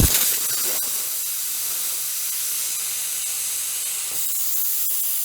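Pressurised air hisses steadily out of a slightly loosened fitting on a gauge fitment, a loud continuous close-up hiss for several seconds after an initial burst.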